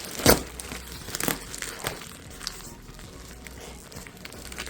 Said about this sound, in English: It is all just a box, thankfully, so I'm just gonna slice through.